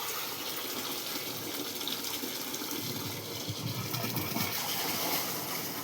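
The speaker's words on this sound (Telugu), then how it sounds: "డ్రమ్కి మనం 150 లీటర్ల నీరు పోసుకున్నాం" Water pours steadily into a drum being filled with about 150 litres outdoors, a continuous rushing gush that stays loud and even throughout with no talk.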